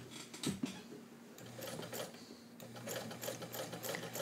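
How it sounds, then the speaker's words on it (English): Vintage two-tone turquoise White model 1563 sewing machine straight stitching leather, a close, steady rapid hum and needle patter running nearly continuously at an even pace, with no talking. "You can do zigzag with leather, but I want to go back and do straight stitch for you."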